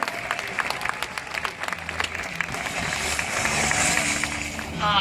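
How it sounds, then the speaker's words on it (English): Clapping from a crowd outdoors at a SeaWorld San Diego show, a busy patter of hands that blends into a louder wash of background noise as it goes on. "Let's give it a round of applause for our volunteers."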